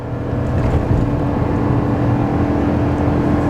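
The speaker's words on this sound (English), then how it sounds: "Now here's one more wide open throttle, drop down to 60 and go." Gas GMC Sierra 3500 pickup with an L8T V8 and Allison transmission at wide open throttle towing up a steep grade, a dense, steady engine roar heard from inside the cab, loud and continuous with no talk.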